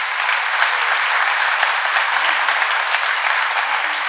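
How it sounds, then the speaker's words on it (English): An awards-ceremony audience gives sustained, loud, even applause for honorees of a Milwaukee community awards event, the clapping continuing unbroken and without voices. "You can applaud."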